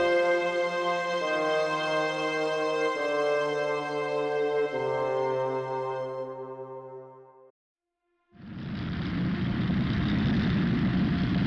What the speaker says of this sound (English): Nazi airplanes begin the bombardment of Poland's countryside as Max and his family tries to hide from the